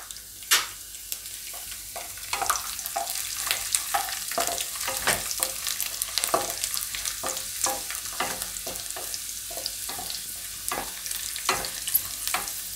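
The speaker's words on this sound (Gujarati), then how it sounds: "હવે આપણે એમાં જીરું નાખી દેવું. અને આપણે આખું લસણ નાખી દેવું." Cumin seeds and whole garlic cloves frying in oil for a Gujarati stuffed raw tomato dish, a steady bright crackling sizzle with sharp pops and occasional spoon scrapes throughout, close and fairly quiet, no talking.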